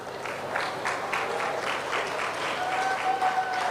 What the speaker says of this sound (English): So we want to really applaud this appointment.